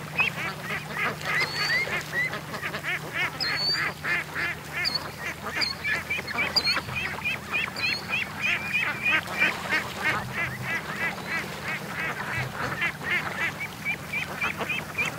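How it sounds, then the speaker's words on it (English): A crowd of ducks on a lake quacks and honks repeatedly over open water, a busy, overlapping chorus that continues steadily throughout. "there's a bunch of ducks headed over to the other side of the lake"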